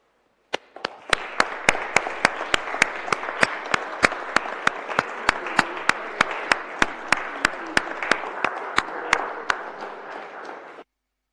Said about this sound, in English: let's just mark the arrival of Christmas Day with a round of applause.